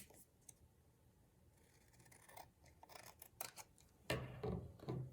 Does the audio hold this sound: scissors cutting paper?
yes